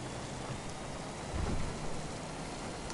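In Grand Theft Auto 5, a steady hiss of rain fills the scene, with a low rumble swelling briefly in the middle.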